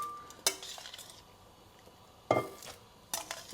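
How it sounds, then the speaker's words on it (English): Cooked linguine lifted from a pan into a bowl, with a few brief metallic scrapes and clinks of utensils against cookware spaced apart over a quiet background. "I'm taking the pasta out and put it back into my bowl"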